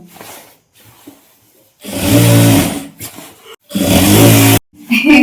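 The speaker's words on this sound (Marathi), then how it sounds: "अशी दाब शिलाई मारून घ्यायची पूर्ण राऊंडला" A sewing machine stitches a salwar waistband in two loud, close bursts of steady whirring and then a brief third run, with quiet gaps between them.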